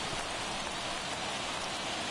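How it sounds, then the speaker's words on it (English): Steady, dense rain falls on a baseball field in MLB The Show 24, a continuous even hiss with no voices over it. "the field's not going to be able to hold up if the rain gets any worse than this"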